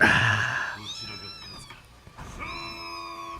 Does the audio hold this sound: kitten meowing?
yes